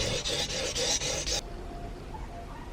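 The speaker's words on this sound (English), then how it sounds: "The honing guide will keep the chisel at the same angle, and I'm trying to use all the stone moving directions so it doesn't wear in only one place." A steel chisel held in a honing guide rasps back and forth across a 400 grit whetstone in about six rhythmic, close strokes, then stops, leaving quiet room tone.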